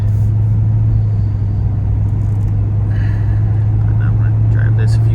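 A 1988 Chevrolet Corvette on a test drive after brake bleeding, its engine a steady low droning hum heard from inside the car, with faint chatter in the background.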